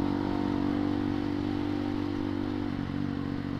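Clutch-equipped motorcycle engine accelerating on the road while preparing to overtake a car, a steady close droning hum with even, constant loudness and no talk.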